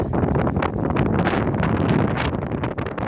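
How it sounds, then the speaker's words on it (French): Strong, steady storm wind roars across the microphone for the whole stretch, a dense rushing gust with no pauses, during Storm Fabien near Vitré, France. "vent commence à souffler, la tempête se lève"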